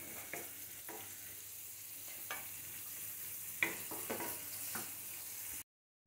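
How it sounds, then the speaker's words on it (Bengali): Chopped onion frying in hot oil for a tempering for lentils with prawns: a steady, quiet sizzle broken by several sharp stirring clicks of a spoon against the pan, ending suddenly in silence. "পেঁয়াজ ভাজা হয়ে গেছে"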